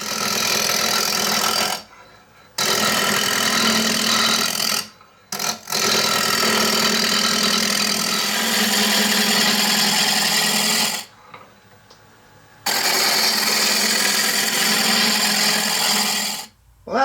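A wood lathe turns a blank round for a music stand as a roughing gouge cuts into it, producing a loud, continuous, gritty shearing roar that breaks off into brief pauses several times before resuming.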